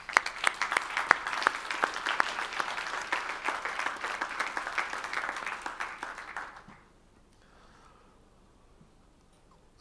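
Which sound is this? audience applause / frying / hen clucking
audience applause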